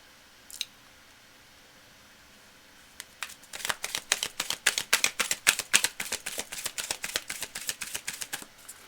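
A tarot card deck is shuffled close up, a soft tap at first, then a long run of crisp, rapid riffling flutters after a short quiet pause.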